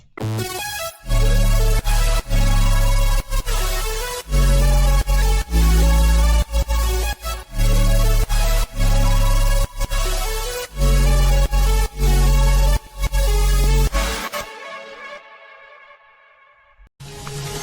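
Electronic dance track verse from a remake, with loud pounding kick, punchy rhythmic synths and chopped sample hits, driving for about fourteen seconds before thinning out and fading, no talking.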